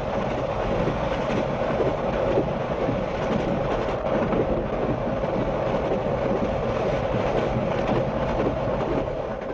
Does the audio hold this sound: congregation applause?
no